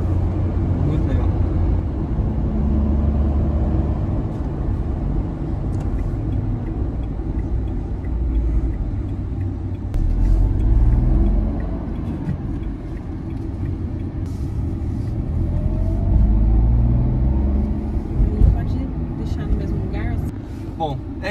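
A Renault Kwid Outsider driving, heard from inside the cabin: a steady low engine and road rumble runs continuously with slight swells, while people talk over it throughout.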